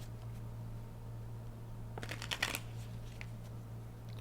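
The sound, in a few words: shuffling cards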